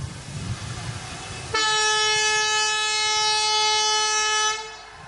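Special passenger train 05222 on the Sonpur–Patliputra route in Hajipur, Bihar, sounds a long, steady horn after being flagged off, loud and close, with crowd murmur before it and the blast holding for about three seconds.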